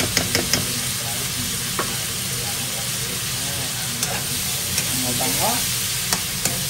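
Tamarind paste is stirred into a sweet and sour sauce that sizzles steadily in a pan, with occasional spoon knocks over the frying hiss and a brief spoken word.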